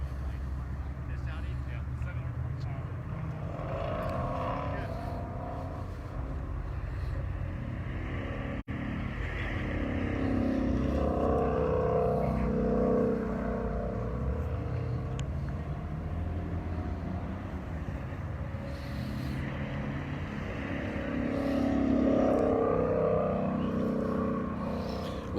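Shelby car lapping a dry skid pad, its engine droning steadily at constant load with slow swells in pitch and volume as it circles, heard from a distance beneath continuous commentary.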